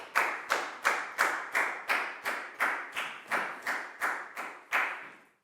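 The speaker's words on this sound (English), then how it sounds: "High five and a big round of applause for Down," A Year 4 maths class claps in unison, about fourteen sharp, evenly spaced claps in a steady rhythmic beat, crisp and close with a short ring after each, no talking over it.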